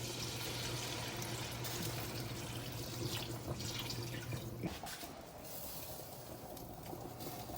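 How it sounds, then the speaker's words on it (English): Water streams steadily into a pan for gravy, a faint continuous splashing with a low hum underneath that stops partway through. "now just gradually add in your water"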